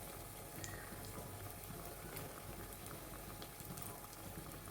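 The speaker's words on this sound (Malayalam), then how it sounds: "എണ്ണ നല്ല ചൂടാവുന്ന സമയത്ത് ഇതങ്ങോട്ട് ഇട്ട് കൊടുക്കാം." Beef cutlets fry in hot oil, giving a steady, dense crackle and bubbling sizzle that stays at an even level throughout, close by, with no one talking.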